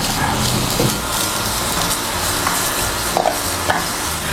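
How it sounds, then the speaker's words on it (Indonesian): Zucchini with chili and garlic stir-fries in a pan, giving a continuous close hiss and sizzle broken by occasional scraping stirs. "nanti kita mau tumis-tumis si zucchini, masukin cabai dan bawang putih"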